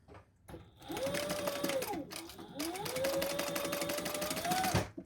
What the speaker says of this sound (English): we're going to sew that together at the seam allowance in the pattern